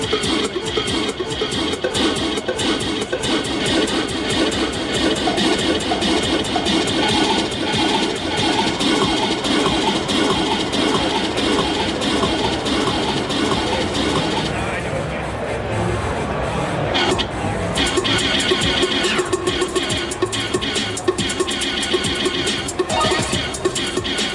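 Dense electronic music with a Rane Sixty-Four DJ mixer's high-pass filter sweeping upward, the low end thinning out until only bright, hissy highs remain, then the full mix returns.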